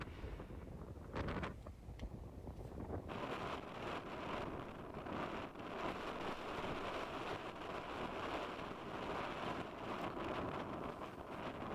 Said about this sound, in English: You can hear in this clip just how windy it was and how cold